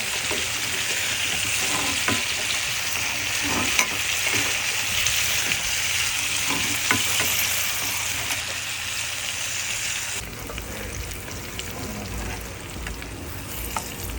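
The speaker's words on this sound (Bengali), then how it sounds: "কষি দিয়ে দিচ্ছি এবার তেলের মতন ভেজে নেব" Pieces of pointed gourd hiss and crackle in hot oil, a dense steady frying sizzle with occasional stirring clicks; the tone shifts slightly near the end.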